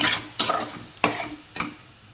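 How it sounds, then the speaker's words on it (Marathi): Egg bhurji being stirred in a pan: three sharp scraping strokes of a spatula against the pan, spaced about half a second apart, with a soft sizzle underneath, close and alone. "टाकते आता मी त्यात चांगला असं ह्याला मिक्स करून घ्यायचं"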